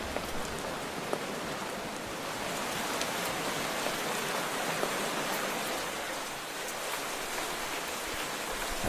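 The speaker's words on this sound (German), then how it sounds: "Oh nein, es regnet. Ah, so laut." Heavy rain in the video game Life in the Woods, a loud, steady hiss of downpour with scattered droplet ticks that holds unbroken throughout, with no talking over it.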